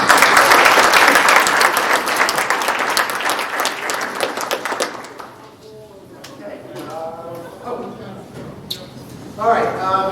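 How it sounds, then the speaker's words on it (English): An audience applauds an elementary school band at a board of education meeting, a dense burst of clapping that fades out midway before a voice speaks over a quieter room. "So once again, a round of applause for our elementary."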